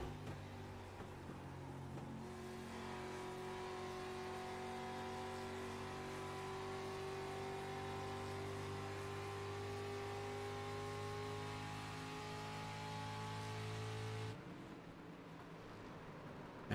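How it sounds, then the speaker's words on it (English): A big race car engine roars steadily in a racing video game, a loud sustained drone with rising and falling tones as it accelerates through a battle for position, holding for about twelve seconds before cutting down abruptly. "you can listen to that big old engine roar"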